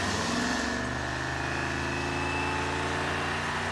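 A swapped Chevy 350 small-block V8 is revved hard. It gives a loud, steady, close-up drone with a slight surge at the start and no voices over it.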